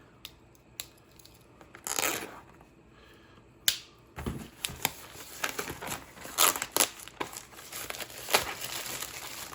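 Sealed Flesh and Blood trading card booster packs being torn open by hand, with close, crisp foil crinkling, ripping and rustling in repeated bursts.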